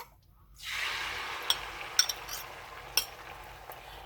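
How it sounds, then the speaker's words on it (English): Food sizzles in a pan greased with grass-fed butter, a steady broad hiss that starts after a brief quiet and carries on with a few light clinks of a utensil against the pan. "You want to hear that sizzle"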